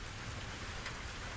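Steady rain falls in a soft, even hiss with faint patter, continuous and fairly quiet with no voices.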